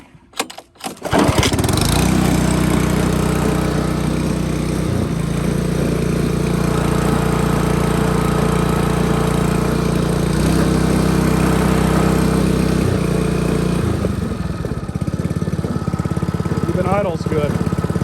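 A Honda Harmony walk-behind lawn mower with a newly replaced carburetor, started on choke without the blade, catches after a brief pull and settles into a steady, loud, close small-engine drone that holds throughout.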